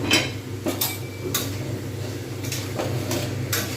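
A lid comes off a cooking pot of frying bottle gourd and potato with spices, with light metallic clinks and taps spread over a few seconds above a low, steady kitchen hum.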